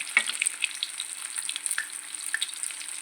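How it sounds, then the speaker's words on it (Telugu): Bread pieces frying in hot oil for a bread snack, a steady bright sizzle with occasional crackling pops, close up and continuous with no voices. "ఇవన్నీ ఇలా ఫ్రై అవుతున్నాయి కదా ఇలా ఒక్కొక్కటి వన్ బై వన్ ఫ్రై చేద్దాము"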